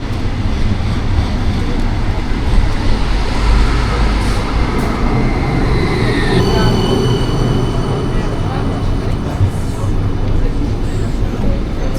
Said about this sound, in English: We're gonna go on the tram